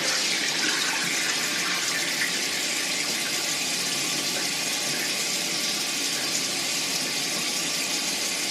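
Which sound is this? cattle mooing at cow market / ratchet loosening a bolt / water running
water running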